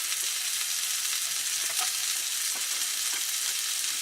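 Mushrooms frying in a pan on a stove inside a van, a steady bright sizzle with a few soft stirring clicks and no talking.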